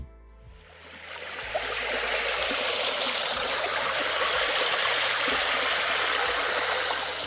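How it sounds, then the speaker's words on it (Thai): Waterfall stream on the trail at Phu Kradueng, Thailand, a steady close rush of flowing water that swells after a quiet start and holds evenly, with a low hum underneath and no talking. "ผ่านน้ำตกซอเหนือสายทานที่แวดล้อมไปด้วยความชุ่มชื่น"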